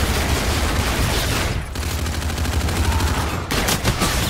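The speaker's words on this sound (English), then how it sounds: "I'm gonna try to get one more kill with the Akimbo shotguns" Akimbo shotguns fire in the game Infinite Warfare, a loud dense run of shots with brief gaps near the middle and toward the end, with no talk over them.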